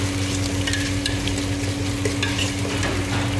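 Ginger garlic paste frying in a pan for mutton curry, a loud continuous sizzle with occasional scraping stirs and a steady background hum.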